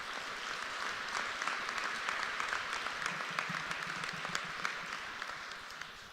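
Applause from a crowd at the ribbon-cutting ceremony for PURE Academy's North Campus, steady and moderately distant, sustained for several seconds.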